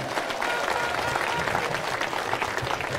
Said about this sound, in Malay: Bagi tepukan kepada Dr. Lee Buncai dan juga Saudara Fizi Ramli.